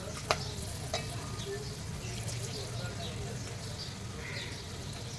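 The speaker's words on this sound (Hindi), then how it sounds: "पहले मैं ये चिकन को बघार लेती हूँ और साइड में रख देती हूँ" Chicken frying in hot oil in a pan gives a low steady sizzle with a few sharp clinks and stirring scrapes, while someone talks faintly in the background.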